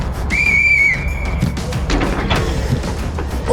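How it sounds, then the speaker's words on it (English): A referee's whistle gives one sharp, loud, high blast lasting under a second to start a football challenge on a Southampton FC matchday show. A few dull thuds and scuffs follow in a noisy room. "On my whistle."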